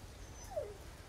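A dog in Resident Evil 4 (2023) gives a single short, faint whimper that slides downward in pitch over a quiet game background, with no talking.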